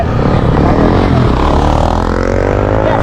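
Motorcycle engine revving loudly and continuously during a freestyle wheelie stunt show, close by, with crowd noise underneath.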